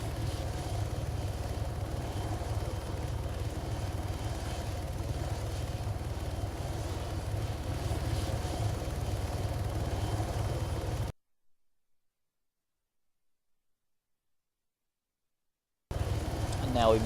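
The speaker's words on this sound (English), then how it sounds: "This is also the final new chopper." A helicopter in ARMA 3 keeps up a steady, droning rotor and engine roar for about eleven seconds, then goes silent before the rumble briefly returns.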